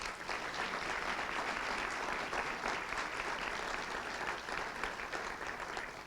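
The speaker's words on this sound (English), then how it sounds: "Let's give her a round of applause." An audience at a Hall of Fame and years-of-service ceremony gives a round of applause, an even, continuous patter of many hands clapping from a large room, steady in loudness from start to finish.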